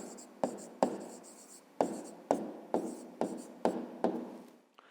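A pen writes a maths answer on paper in a sequence of close, scratchy strokes, each starting with a sharp tap and trailing off, about eight in a steady rhythm with no talking.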